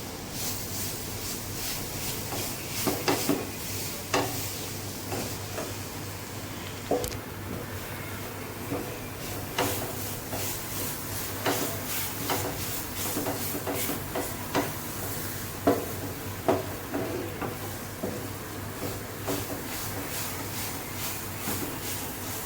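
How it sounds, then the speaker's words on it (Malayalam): Ladoo mixture being stirred in a pan in a hot home kitchen, a steady soft scraping hiss broken by regular light spoon knocks against the pan, close and continuous with no talking. "ഇനി ഇത് നന്നായിട്ട് ഇളക്കണം."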